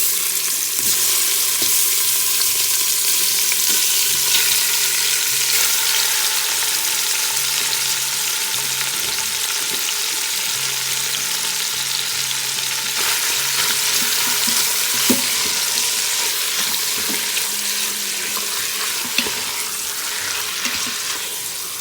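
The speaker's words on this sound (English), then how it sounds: "We'll brown this for 2 to 3 minutes, and then I'm going to remove it to a plate." Salted and peppered beef browns in an Instant Pot with a steady, loud sizzle that runs the whole time, broken by occasional scrapes and clinks of stirring.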